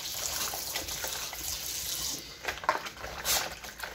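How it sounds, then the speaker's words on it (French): Beef rinsed under a running kitchen tap, a steady close splashing water flow with brief surges as the meat moves through the stream. "Je la passe sous l'eau."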